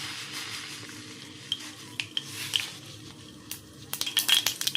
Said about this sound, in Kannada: ಎಣ್ಣೆ ಕಾದ ತಕ್ಷಣ ಸಾಸಿವೆ ಹಾಕ್ತಾಯಿದ್ದೀನಿ.